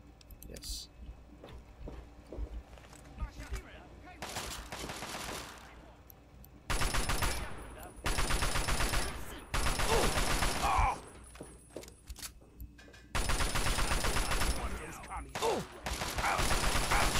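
Automatic gunfire rips through a Fallout 3 fight in long, loud sustained bursts, broken by quieter gaps holding mechanical clicks and scattered single shots, with someone talking now and then.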